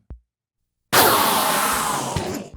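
A burst of overlapping Minecraft sound effects from many endermen killed at once erupts after a short blip and silence, a dense, loud hiss-like clatter lasting over a second.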